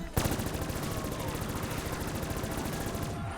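SCAR rifle gunfire in a Call of Duty custom zombies map, with a fast, steady automatic burst of evenly spaced shots, loud and close, running for about three seconds before cutting off.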